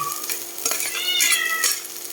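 A domestic cat meows noisily in a kitchen while onions and hotdogs fry, with drawn-out meow calls rising over a continuous loud sizzle from the pan.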